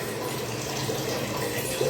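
Water runs steadily from a household water filter into a container, a continuous close splashing fill with no talk.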